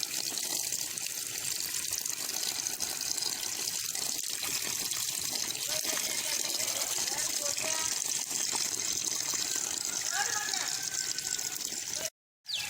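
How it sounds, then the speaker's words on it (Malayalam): Water gushing steadily from a hose into a small fish-rearing pond through a strainer, a constant close splashing rush that runs nearly the whole time and then cuts off briefly near the end. "നമ്മളിനി ഇതിലേക്ക് വെള്ളം നിറച്ച് കൊടുക്കാം."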